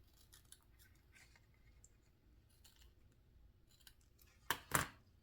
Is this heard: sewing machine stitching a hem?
no